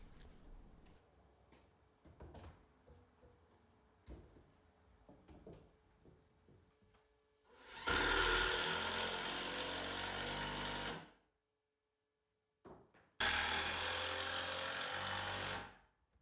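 A power drill drives screws into wall studs while garage shelves are built, with two loud, sustained whirring bursts a few seconds each, separated by a short pause and preceded by quiet knocks and handling sounds.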